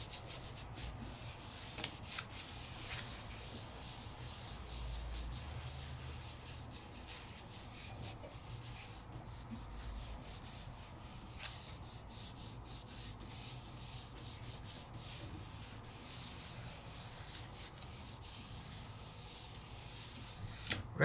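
Rubbing by hand on a paper craft project, a quiet, continuous dry friction and scuffing sound that runs steadily for about twenty seconds, close and faint with no talking.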